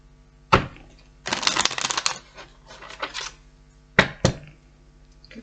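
Tarot cards being shuffled by hand, with brief sharp riffles and a longer run of flicking, fluttering card noise, then two quick snaps near the end, close and fairly soft.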